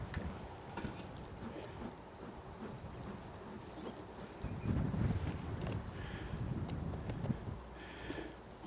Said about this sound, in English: it's getting windy. It's getting real windy.